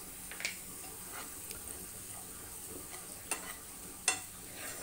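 Browned onions frying in a pan with chili powder and turmeric added, a steady soft sizzle running throughout, broken by a few light clicks of a stirring spoon against the pan, close and moderately quiet.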